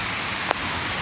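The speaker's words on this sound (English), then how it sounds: "it's bloody pouring down" Heavy rain pours down outdoors as a dense, steady hiss of drops with one brief louder patter partway through.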